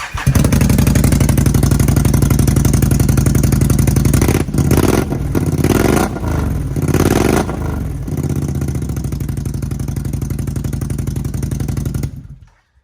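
A Can-Am Renegade ATV with an FMF titanium exhaust runs loud and rough, then revs up in several sharp bursts before settling back to a rattling idle and cutting off.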